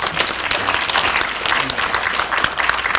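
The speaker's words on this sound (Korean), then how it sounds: "그럼 크게 박수 한번 주시죠." Loud, close applause from a forum audience at a Cheonan carbon-neutrality environmental event, many hands clapping vigorously in a steady burst that fills the hall.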